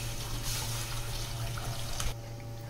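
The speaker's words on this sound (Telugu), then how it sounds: "2 కప్పుల బియ్యం వండుకుంటున్నాను కాబట్టి 4 కప్పుల వాటర్ యాడ్ చేసుకోవాలి" Water runs steadily into a pot to cook two cups of rice for a chicken fry piece biryani, a continuous close pouring rush with no talk.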